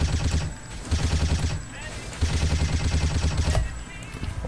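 Sustained rapid machine gun fire in the online shooter 生死狙击, a dense rattling stream of shots in rhythmic bursts with brief pauses, loud and close throughout.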